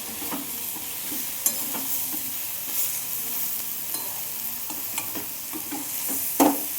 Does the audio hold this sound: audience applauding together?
no